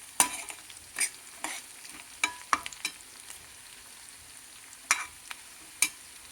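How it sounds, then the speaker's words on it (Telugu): Tempering spices frying in a pan for a cucumber dal, with soft sizzling underneath and a series of sharp spatters and stirring scrapes at irregular intervals. "చూడండి, తాలింపు వేగింది."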